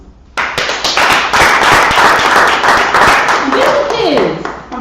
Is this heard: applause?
yes